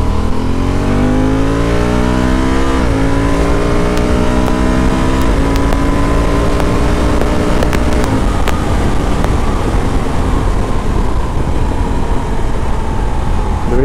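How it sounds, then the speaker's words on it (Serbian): A 2022 Honda Africa Twin CRF1100L Adventure Sports ES DCT motorcycle accelerates hard from second gear, its engine note climbing steadily and dropping at several quick automatic upshifts, loud and close throughout. "Ajmo iz druge brzine da probamo ubrzanje."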